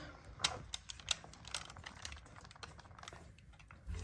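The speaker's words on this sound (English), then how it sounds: "I'm reusing my parchment paper from another fudge that I made." Reused parchment paper is handled while making no-bake fudge, giving quiet, scattered crinkles and sharp little crackles close by with no one talking.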